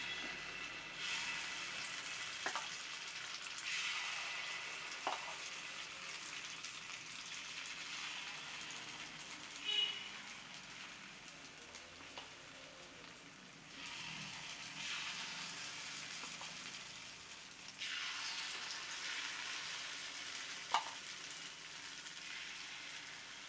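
Sweet paniyaram batter made with aval (flattened rice) frying in a pan, giving a steady broadband sizzle that swells and eases in waves, with a few small sharp pops and ticks and no talking.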